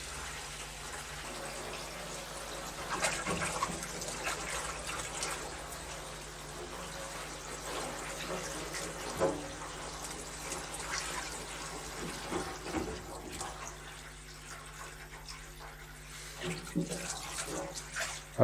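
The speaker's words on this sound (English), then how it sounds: "So that's hot and cold coming from the water butt." Hot and cold water running from a water butt, a steady broadband rush and splash that holds throughout with small surges, close and fairly loud.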